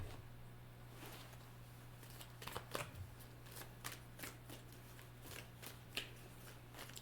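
Tarot cards being shuffled quietly at close range, a run of soft riffling flicks and taps with irregular rhythm over a faint steady hum, no voices.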